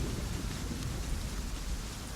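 Steady heavy rain with a low rumble of thunder, a dense continuous wash of noise with no voices.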